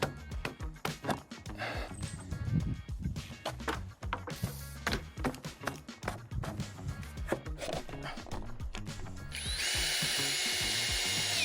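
A power drill drives temporary screws into pergola wood, with rapid whirring bursts and rattling close by, ending in a sustained high whine.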